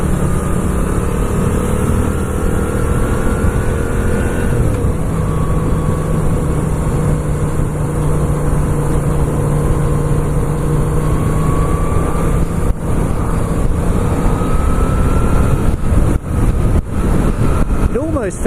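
Moto Guzzi V7 II motorcycle engine droning steadily while riding on the road, its tone holding and then shifting with speed, close and loud under constant wind rush, with some muffled talk over it.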